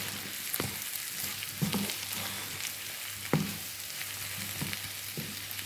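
Spicy boiled potatoes frying in a pan, a low steady sizzle broken by several soft scraping stirs, fairly quiet and without voices.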